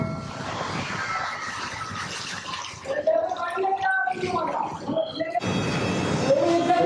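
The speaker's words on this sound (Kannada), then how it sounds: "ಇಷ್ಟನ್ನ ಹಾಕ್ಕೊಂಡು ಇದರಲ್ಲಿ ನೀರು ಹಾಕ್ಬಿಟ್ಟು ಈಗ ಬೇಯೋದಕ್ಕೆ ಇಡ್ತಾರೆ" Water pours steadily into a pot of masoor dal lentils for a few seconds, then a person talks while splashy, watery noise continues underneath.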